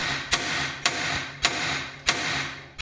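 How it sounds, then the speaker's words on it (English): Hammer blows on a BMW E53 X5 track rod end, five sharp metallic strikes at a steady, roughly half-second rhythm, close and loud over a constant background hum. "there was quite a bit of hammering involved."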